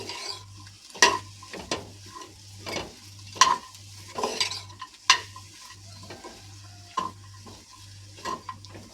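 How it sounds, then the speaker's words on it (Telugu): Raw banana masala mixture with coriander being fried and stirred in a pan, a steady low sizzle under repeated scraping strokes of a spoon roughly every half second, close and alone. "ఇలా మొత్తం అన్నీ వేసుకొని దోరగా వేయించుకోవాలి"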